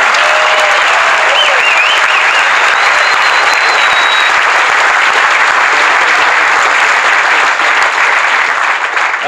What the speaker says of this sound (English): just one good round of applause for all the people that were helping us out there today, the crews, the pacers, the volunteers